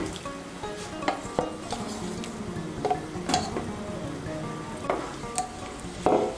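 Fried eggplant goes into a bubbling pabda fish curry, a steady close sizzle broken by several sharp spoon clacks and scrapes against the pan at irregular intervals.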